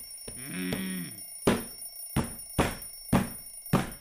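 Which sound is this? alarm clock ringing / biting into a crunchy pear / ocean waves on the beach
alarm clock ringing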